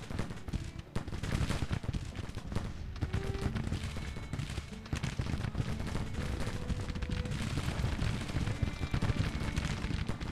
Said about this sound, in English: Okay, Thomas's guys are firing now.